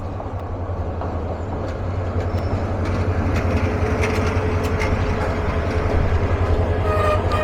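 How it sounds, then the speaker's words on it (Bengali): The Egarosindhur Provati Express, a passenger train on the Dhaka to Kishoreganj run, rumbles steadily as its locomotive shunts, giving a constant low drone with scattered metallic clicks and rattles close by. "লোকো শান্টিং করে এখন আবার সামনে লাগানো হবে"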